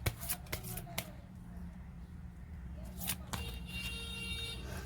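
Goddess oracle cards are shuffled in quick riffling bursts near the start and again around the three-second mark, soft and close, over a faint background hum.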